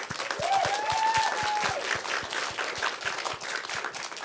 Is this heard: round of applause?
yes